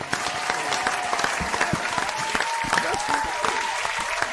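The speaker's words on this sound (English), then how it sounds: "Get a bishop a round of applause, man." Loud, dense crowd applause for a bishop at an IUIC gathering, steady and close for the whole stretch, with a few shouting voices rising above the clapping.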